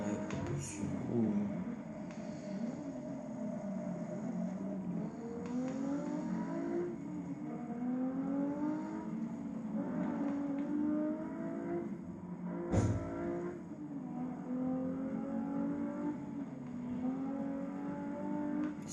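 A race car engine in the Forza 6 racing video game revs and climbs through gears over a long stretch, with tire noise and a jolt midway, while someone talks over it.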